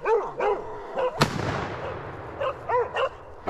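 Hunting dogs bark in short repeated bursts during a wild boar hunt, several close yelps and bow-wows with a sharp loud rifle shot cracking in between and echoing away.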